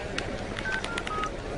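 A telephone number is dialed, producing a quick series of touch-tone beeps, some brief and some held, over faint background noise.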